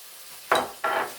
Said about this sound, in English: Begin to stir that in real nicely